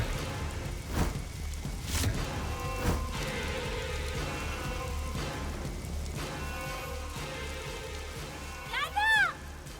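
Heavy rain pours steadily in a drama scene, a dense continuous hiss of falling water with a few louder splashes, while voices and other sounds rise over it at times.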